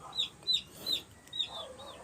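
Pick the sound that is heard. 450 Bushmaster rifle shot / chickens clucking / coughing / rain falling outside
chickens clucking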